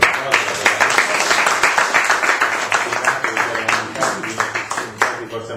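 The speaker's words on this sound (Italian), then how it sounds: "Quindi salutiamo con un applauso Massimo De Gregorio." Audience applause at a public event on environment, health and landscape as a speaker is welcomed: irregular clapping with distinct individual claps, alongside voices talking and a continuous low hum.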